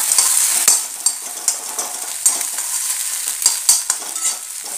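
Chicken and egg noodles are stir-fried together in a pan with oil, giving a bright continuous sizzle. Sharp spatula clicks and scrapes come at an irregular rhythm throughout, with no voices.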